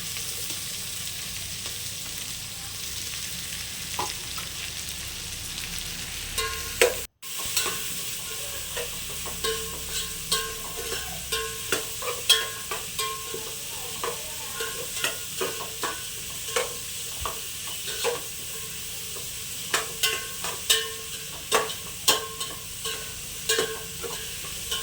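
Onions frying in a pan while being stirred, a continuous sizzle punctuated by regular scraping and clinking strokes of a utensil, one brief dropout early on, and no speech.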